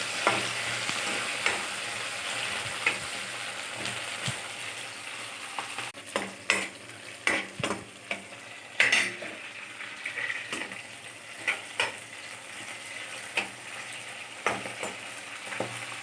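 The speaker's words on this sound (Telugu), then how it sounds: "పచ్చిమిర్చి మంచి గోల్డెన్ బ్రౌన్ కలర్ వరకు వేసుకోవాలి." Green chillies fry in oil until golden brown for tomato pachadi, giving a steady close sizzle broken by repeated sharp clicks and scrapes of stirring, busier after the first few seconds; no one speaks.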